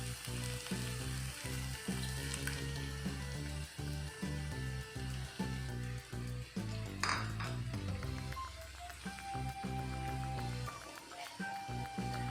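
Three beaten eggs are poured into a hot pan of vegetable filling for an egg roll, and a steady, fairly close frying sizzle runs underneath continuous background music.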